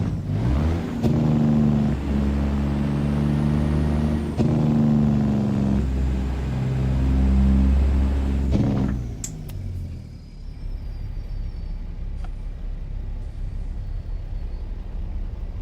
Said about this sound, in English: the engine sounds free though. It's from Steam Workshop by Slab Jerry.